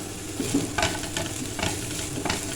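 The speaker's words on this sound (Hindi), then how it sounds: "अब हम इसको इतना भूनेंगे कि ये ट्रांसलूसेंट सा हो जाए, यानी कि प्याज का कच्चापन ख़त्म हो जाए।" Finely chopped green chillies and onion fry in a pan, a soft continuous sizzle with a few gentle stirring scrapes layered over it.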